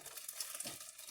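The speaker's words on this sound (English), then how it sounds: "we are going to add the mushrooms, broth," Mushrooms, broth and onions going into a pot for a cream of mushroom and snail soup, with a faint, steady sizzle and light stirring scrapes, quiet and close.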